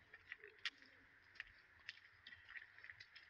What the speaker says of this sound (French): On entend les pigeons.